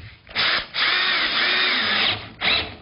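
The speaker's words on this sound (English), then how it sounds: "And screw that well down all round to give us a nice solid roof." A Bosch drill drives screws into the wooden roof of a chicken coop, a loud, close whir in three bursts: a short burst, then a long sustained run, then a brief final burst.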